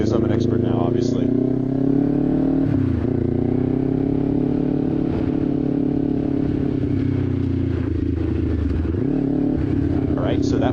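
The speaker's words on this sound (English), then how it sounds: "that was supposed to be a downshift" A motorcycle engine runs loud and close, its note sagging and recovering twice as the rider shifts and downshifts gears.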